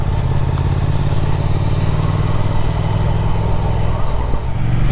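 Triumph Speed Twin 1200 motorcycle pulling hard in third gear, a steady loud engine drone with wind rush, heard close from the rider's position without any talk.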